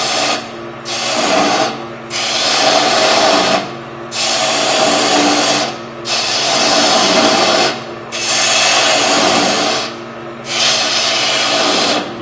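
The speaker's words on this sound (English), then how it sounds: "I can do the same thing now with the bowl gouge." A bowl gouge cuts into wood spinning on a lathe, producing loud, close, rough shearing bursts that recur in about five long passes separated by brief lulls of the lathe's running hum.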